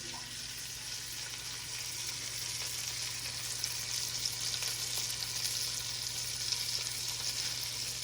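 Lamb chops frying in a hot pan, a steady close sizzle with crackling spatter that holds fairly even throughout, with no talking over it.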